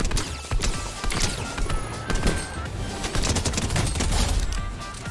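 Rapid gunfire from an IO guard in Fortnite, a busy burst of shots rattling close and loud across the whole stretch with some clattering mechanical noise mixed in.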